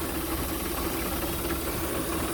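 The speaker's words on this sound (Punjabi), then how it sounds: "400 500 ਆਰਪੀਐਮ ਤੇ ਚੱਲ ਰਿਹਾ ਟਰੈਕਟਰ" A tractor engine idles steadily at about 400 to 500 rpm with a constant low rumbling hum, close by and unchanging, no voices.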